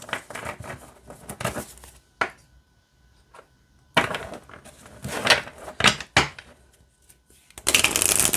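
Oracle cards are shuffled in several bursts of crisp riffling and flapping, with short quiet pauses between, close up.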